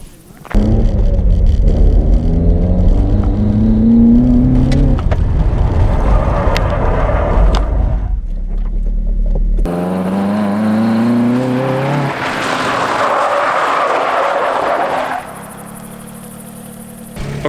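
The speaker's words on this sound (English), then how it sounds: "Intentional snap oversteer, no fighting back, is up first." Car engine during intentional snap oversteer, loud close droning with rising and falling pitch sweeps, a steady roar that drops away briefly around eight seconds before surging again.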